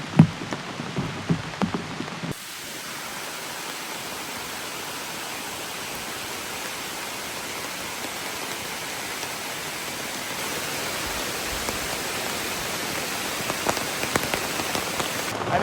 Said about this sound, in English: That is a rainstorm. That is officially a rainstorm.